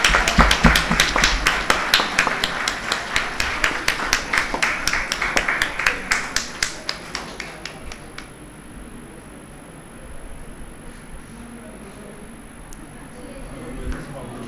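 A large audience at a national moot court competition gives the teams a loud, sustained round of applause that thins into scattered claps and fades after about eight seconds, leaving quiet room noise.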